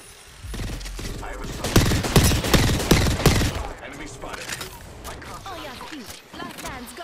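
Rapid automatic gunfire bursts from the video game Apex Legends, loud and dense in the middle of the clip, then continuing more sparsely, with a player's voice talking over the shooting.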